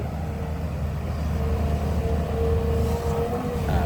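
A Volvo EC210B excavator's six-cylinder D6D diesel engine runs with a steady, low, throbbing rumble that stays even throughout, heard from fairly close with no voices.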